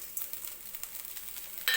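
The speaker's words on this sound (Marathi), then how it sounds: "आणि आता याच्यामध्ये मी मोठं मीठ टाकते" Coarse salt heating in a hot iron kadhai gives a faint, steady sizzle and light crackle with small grainy scraping touches, quiet throughout and ending in a louder rustle.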